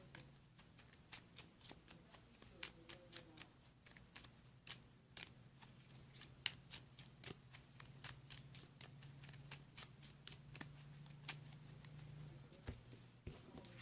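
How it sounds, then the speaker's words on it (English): A deck of Pokémon trading cards is riffle-shuffled in quick, close, crisp bursts of snapping card edges that repeat steadily, with no talking. "Now we'll shuffle our deck."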